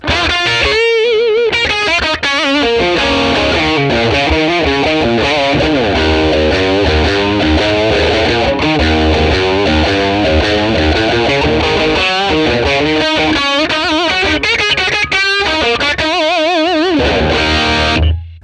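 Les Paul electric guitar played through a Tube Screamer overdrive pedal into a 1957 Fender Tweed amp capture, giving a driven, distorted tone as a continuous, loud run of riffs and chords with a clean stop at the end.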